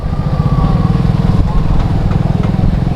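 Several auto rickshaw engines idle and putter together in a steady, close rumble, with faint crowd voices mixed underneath, at a busy spot near Rameswaram, India.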